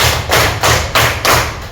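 A classroom of students claps in unison to a teacher's counted clapping pattern, giving four loud, evenly spaced group claps in a steady rhythm.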